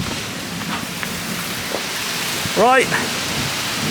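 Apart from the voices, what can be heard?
heavy rain and thunder during a storm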